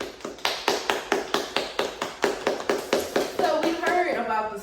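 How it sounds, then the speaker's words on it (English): Audience applause for a drag queen at a show, a run of regular, evenly spaced claps that quickly becomes a denser, continuous clapping toward the end. "Can we give her a round of applause"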